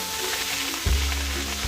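Hilsa fish pieces go one by one into hot oil, a steady sizzle that swells suddenly into a louder burst of frying as a piece hits the pan, close up with no talk.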